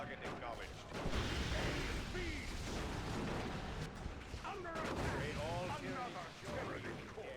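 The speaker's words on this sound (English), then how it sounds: "Scouts eat a Stranglethorn cannon shot" A Stranglethorn cannon shot booms in a Warhammer 40k battle game amid dense, continuous explosive rumble and gunfire, loud and sustained, with a voice talking over the din.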